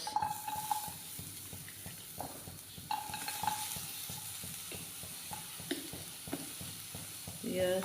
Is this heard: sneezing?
no